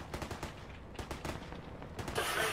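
Gunfire in a military video game, with rapid bursts of machine gun and rifle shots crackling at moderate distance and a louder burst near the end.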